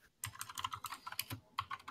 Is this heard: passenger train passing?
no